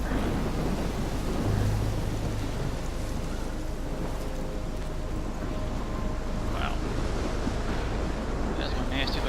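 Stormy wind and crashing waves from the video game Life Is Strange, a steady broadband roar of surf and gusts that stays fairly loud throughout, with faint game tones in the background.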